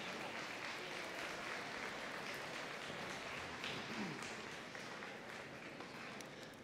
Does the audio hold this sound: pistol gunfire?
no